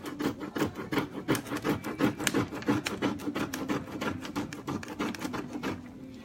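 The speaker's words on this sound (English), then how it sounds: "I will go in and sand some of the design off" Sandpaper rubs by hand over a painted surface to wear away part of a Prima furniture transfer design, a steady run of quick rasping back-and-forth strokes, close and fairly loud, with no talking.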